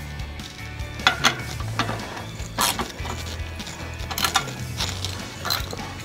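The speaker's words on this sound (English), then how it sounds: "when tightening the axle bolts, it's best to use a 15 millimeter, preferably a deep socket" A 15 mm deep socket tightens the front axle bolts on an SE Bikes Big Flyer 29er bicycle, giving scattered metallic clicks and ratcheting taps over a low steady background hum.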